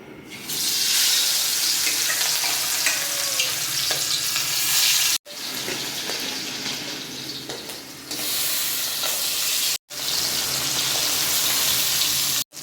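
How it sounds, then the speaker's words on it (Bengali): Hilsa fish heads seasoned with salt and turmeric fry in oil in a kadai, giving a loud, bright, continuous sizzle broken by a few brief sharp cuts, with no talk. "মাছ ভেজে নেব"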